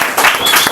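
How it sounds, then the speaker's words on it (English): Audience applause bursts out at a business talk as someone is invited up on stage, a short, dense wash of clapping that fills the room. "A little round of applause."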